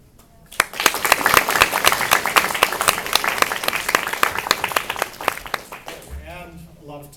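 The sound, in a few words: audience applause at scholarship awards ceremony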